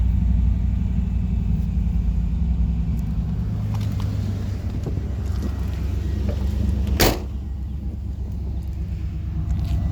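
A 1986 Camaro IROC-Z idles through a Flowmaster 80 Series American Thunder cat-back exhaust, giving a steady, close, deep rumble with a brief sharp click partway through.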